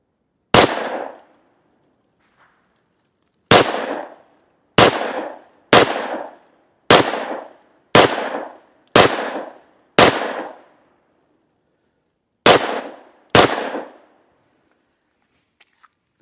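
FN 510 pistol firing 220 grain rounds: nine sharp, loud shots spaced irregularly, with a string of fairly quick reports in the middle and a long pause before the last two. No voices are heard.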